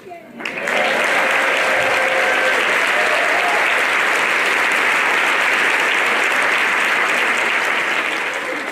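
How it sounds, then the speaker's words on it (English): Loud, sustained applause from a large sewing conference crowd, dense clapping that swells quickly and holds steady for several seconds. "I want to have a big applause for American Sewing Guild's 40th birthday"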